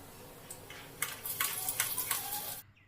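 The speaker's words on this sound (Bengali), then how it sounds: "ফোড়নটাকে ভেজে নিয়ে এবার দিয়ে দেব রসুন কুচি" Panch phoron spices and chopped garlic frying in oil give a soft crackling sizzle, with a cluster of brief hissy spurts from stirring over about a second and a half before it stops.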